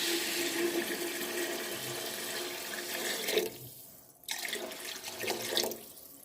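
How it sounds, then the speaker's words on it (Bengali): Warm water poured into a pan of lightly fried moong dal for vegetable khichuri, a steady splashing gush that cuts off briefly near the end and resumes, close and fairly quiet. "পরিমাণ মতো জল দিয়ে দিচ্ছি।"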